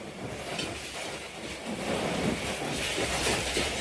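A passenger train pulls into Narang Mandi station on the Narowal section, producing a steady broadband rumble and faint wheel clatter at close range, with no voices.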